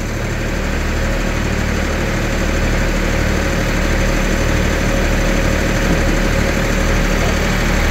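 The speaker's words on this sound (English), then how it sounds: "Bring the tractor in." Tractor engine running near a sawmill during slabbing of a large pecan log: a loud, close, steady diesel-like idle with a continuous low rumble and rhythmic knocking, no speech.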